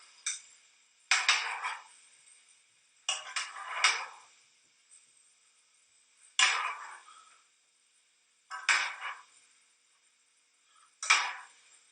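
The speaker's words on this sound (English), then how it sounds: "we're going to pull this first batch of beef out of the pan" Cooked beef is lifted out of a pan with metal utensils while making chili, giving a handful of scraping, clinking bursts spaced a couple of seconds apart, fairly quiet with near silence between them.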